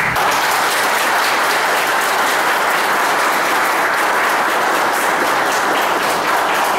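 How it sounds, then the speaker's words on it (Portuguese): An audience at a meeting gives sustained, dense applause, a loud and steady wash of many hands clapping together with no pause. "eu gostaria de ter uma resposta com uma salva de palmas."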